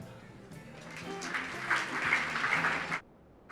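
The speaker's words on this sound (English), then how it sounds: "Why don't we give one big round of applause again for the entire class of this year's 40 Under 40." An awards dinner audience applauds the last honoree of a 40 Under 40 list, clapping that swells from a quiet start to a fuller peak, then cuts off abruptly near the end with faint music underneath.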